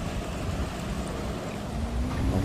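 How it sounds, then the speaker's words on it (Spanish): A speedboat in GTA IV runs with a low, steady engine rumble over washing water and wind noise, loud and continuous with a faint rising tone near the end. "Tenemos que meternos rápido, rápido a una de estas lanchas."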